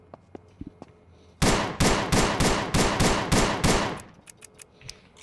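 Rapid automatic gunfire at far range in the video game ANEURISM IV: a loud burst of about eight closely spaced shots for nearly three seconds, with faint clicks before and after.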